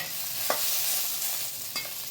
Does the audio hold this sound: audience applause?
no